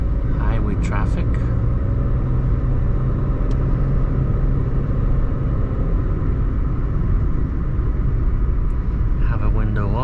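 A 2020 Toyota Aygo 1.0 in third gear drones loudly as it merges into highway traffic with a window open, a steady low engine and road rumble with brief bursts of speech.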